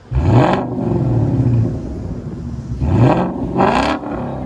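A Ford Mustang GT with the 5.0L Coyote V8 and a loud aftermarket exhaust revs hard in two bursts, a deep roaring rumble swelling and dropping, close and loud with no talk.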